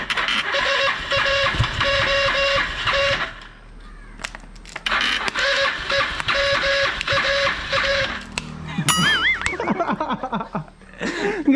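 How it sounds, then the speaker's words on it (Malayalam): A motorcycle engine cranks on a borrowed Royal Enfield Bullet battery in two long, loud bursts of rhythmic churning, without catching. Brief laughter and squeaky voices follow. "ഇപ്പോൾ ഒന്നുകൂടെ സ്റ്റാർട്ട് ചെയ്ത് കാണിച്ചുതരാം, അടിച്ചോ."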